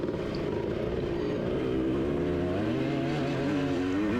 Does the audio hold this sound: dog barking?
no